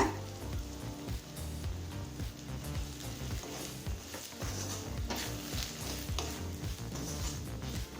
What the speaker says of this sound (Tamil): இப்போ பொடி சேர்த்துட்டு 1 நிமிஷம் வரைக்கும் வதக்கிக்கலாங்க